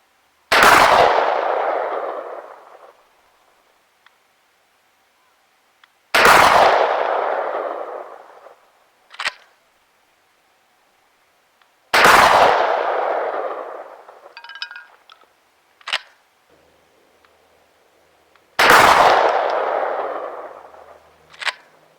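Four loud 12 gauge shotgun slug blasts fire outdoors, spaced several seconds apart, each a sharp close boom fading into a long echo, with a small metallic clink after each shot.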